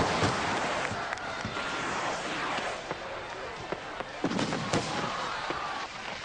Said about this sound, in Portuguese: o ponto alto das festividades do dia era uma exibição de ativos fogos de artifício